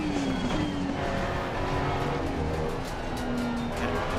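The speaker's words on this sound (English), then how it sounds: "You can hear the turbos, the whistling." Turbo whistle from a race car in Assetto Corsa Competizione, a thin high tone drifting over a steady loud engine drone that runs without break.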